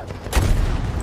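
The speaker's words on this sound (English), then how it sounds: "the gun was meant to shoot around corners with its curved barrel between 30 and 45 degrees." Krummlauf curved-barrel gun firing in Battlefield V, a short burst of gunfire with a dense crackling blast lasting under a second, loud and close against a low rumbling background.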